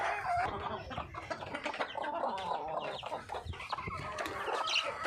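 A flock of backyard chickens clucks and squabbles continuously at close range, with overlapping short calls and scratching at a fairly low level.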